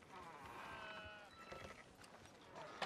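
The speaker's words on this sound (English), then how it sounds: "We got a sheep, a straggler." A straggler sheep bleating in Red Dead Redemption 2, a couple of wavering bleats near the start over faint outdoor ambience, fairly quiet and without talk.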